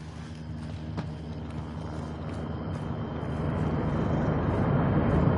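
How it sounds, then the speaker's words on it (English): A helicopter approaches in the video game Call of Duty MWII, its low rotor rumble and engine drone building steadily louder over a noisy battlefield background. "Got a heli incoming. Looks like a supply dropper."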